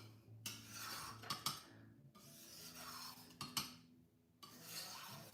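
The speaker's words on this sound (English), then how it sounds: "I need to scrape this first" Homemade watercolor paint is scraped in close rasping strokes, several rough scrapes separated by brief pauses, quiet and without talk.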